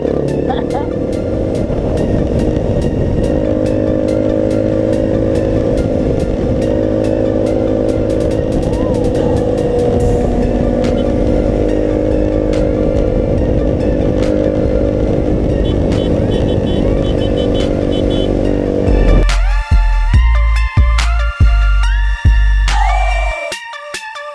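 A Voge 300 Rally motorcycle with a fault, ridden on a night route, its engine droning loud and steady at high revs, then dropping to idle with a few sharp throttle blips near the end.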